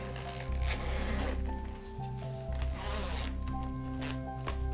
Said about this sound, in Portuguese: Fechar o fecho, ok?